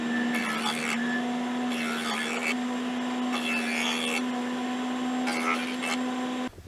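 A jointer planes wooden legs for a Morris chair, its motor humming steadily while repeated passes bring bursts of louder cutting roar, about four in a row, before winding down at the end.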